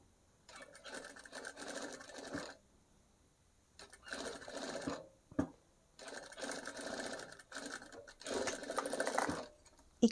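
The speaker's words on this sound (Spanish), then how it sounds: "no suelto a la máquina que está cosiendo" A sewing machine stitches fabric in four steady running bursts separated by short pauses, with a sharp click or two between runs; no one speaks.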